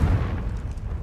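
A Confringo blasting spell in Hogwarts Legacy erupts as a heavy, low rumbling explosion, one sustained boom that is loud and close throughout the brief moment.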